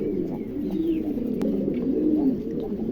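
Soft, low cooing from Lahore pigeons rolls on continuously, close and steady, with a faint bird chirp and a brief click in the background.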